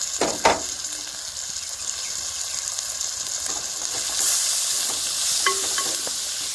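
Two hundred grams of thinly sliced onions frying in a pan for gongura mutton curry. A continuous close sizzle runs throughout, with a few sharp clatters of a utensil near the start and again near the end.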